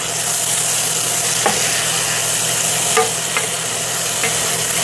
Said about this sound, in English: we're going to go in with a white yellow onion. And we're going to saute those for a minute.